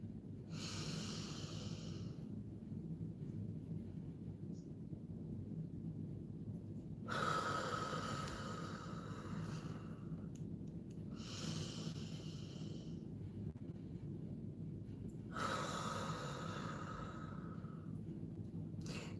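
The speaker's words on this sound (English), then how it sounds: "Just keep breathing" Deep, rhythmic breathing during a wellness exercise session: slow, loud inhales and exhales close to the microphone, each long breath drawn out over several seconds and repeated in a steady cycle.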